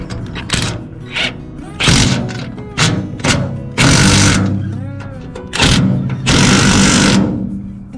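Power drill biting through trailer metal while installing tie-down bolts, with repeated loud bursts of drilling separated by brief pauses and knocks, close up, with a voice talking between bursts.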